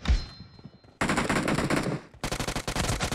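Video game gunfire during a four-versus-four team deathmatch: a single sharp shot, then dense rapid automatic bursts, loud and close, in two long volleys.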